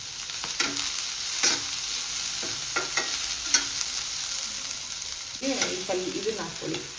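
Chopped onion and onion flowers frying in an oil-filled pan for a Karnataka-style egg palya, a steady close sizzle broken by scattered spoon-stirring scrapes, with brief sputters near the end.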